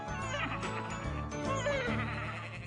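Cartoon sheep from Tractor Tom bleat over a bright musical backing, their wavering calls rising and falling across the short stretch without pause.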